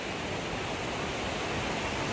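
A mountain stream rushes past on a Himalayan trek toward Panchakunda Lake, a loud, steady broadband roar of flowing water with no breaks and no voices.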